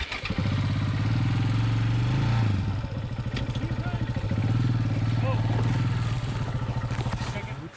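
A dirt motorcycle engine runs close by with a steady pulsing putter, revving up and easing back twice.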